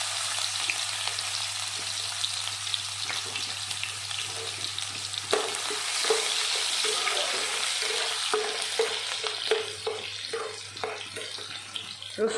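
Garlic frying in hot oil gives a steady broadband sizzle throughout, with scattered scraping and stirring clicks and a low hum underneath, with no talking.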